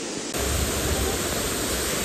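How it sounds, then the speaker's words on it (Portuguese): Roaring waterfall at the last falls of a park trail in Bonito, Mato Grosso do Sul, a steady dense broadband rush swelling in after a brief quieter start and continuing loud and unbroken. "E essa é a última cachoeira."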